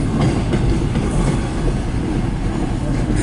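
A CN M384 eastbound freight train passes close by in Port Huron, Michigan, giving a loud continuous rumble with rolling wheel clatter on the rails.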